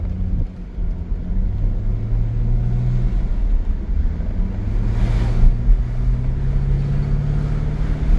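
A 2003 Chevrolet Corvette C5 50th Anniversary coupe with a heavy, big engine drives along, giving a steady low rumble with road and wind noise throughout and no talking.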